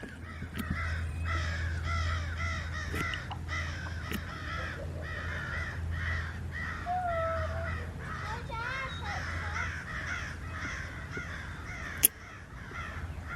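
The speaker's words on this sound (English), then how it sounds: "The crows are chasing the fox." Crows chasing a fox on a farm give repeated harsh caws from several birds, some near and some farther off, over a low steady hum while a person talks through much of it, with one sharp knock near the end.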